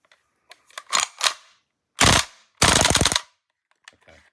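A WE H&K MP7 A1 gas blowback airsoft rifle with feeding issues fires in short bursts: a couple of quick cracks, then two longer rattling strings of rapid shots, each separated by silence and faint clicks.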